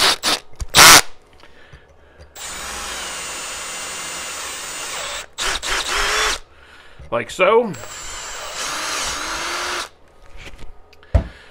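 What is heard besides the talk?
drilling a hole in an Arrma Kraton RC shock tower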